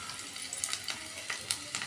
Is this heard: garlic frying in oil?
yes